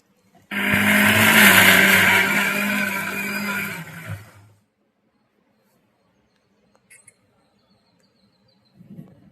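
A grinder churns soaked green gram into batter for banana flower vada in a village kitchen. A loud, dense motor whirr runs for about four seconds, then cuts off and leaves near silence with a few faint clicks.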